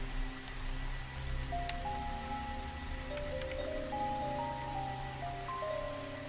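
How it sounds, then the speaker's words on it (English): In the video game Moonrise Fall, a kalimba song summons rain that falls as a steady hiss, heard under soft melodic game music with sustained tones. "set a certain song so it starts raining"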